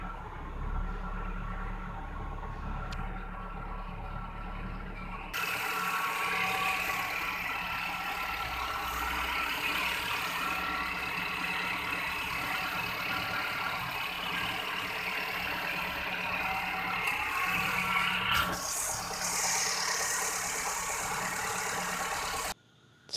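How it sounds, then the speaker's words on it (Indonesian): A Kia Visto car engine idles smoothly and steadily at close range, a continuous even hum after a brief quieter start, with no talking. "Ini mobil sudah enak dihidupkan, sudah lancar dan sudah jreng, di starter enak"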